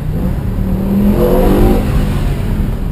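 A BMW M6 engine revs up in a rising, sustained roar, loud and close, with steady rumbling noise throughout.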